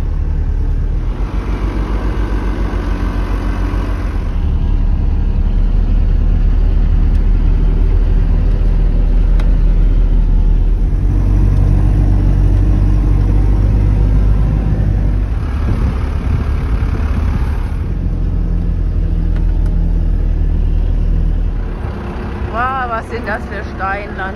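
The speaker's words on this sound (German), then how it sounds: "Jetzt sind wir mehrere Kilometer durch Weißsand gefahren, Flussbett, Wadi." A vehicle grinds through soft white sand in a desert wadi riverbed, its engine a loud, heavy, continuous rumble that swells and eases, with people talking over it.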